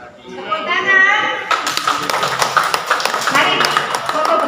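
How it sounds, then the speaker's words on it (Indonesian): A school farewell gathering for a supervisor and principal breaks into applause: a burst of close, brisk clapping follows a voice and continues with people talking over it. "Tepuk tangan."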